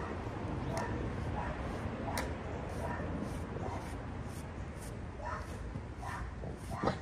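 American Bully dog at bath time making repeated short whimpers, yips and snorts over a steady rush of running water, fairly close, with a person talking at moments.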